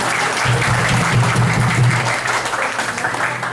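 An audience at an agency awards event breaks into sustained applause, a dense, steady wash of many hands clapping that fills the room for several seconds, with little talk over it.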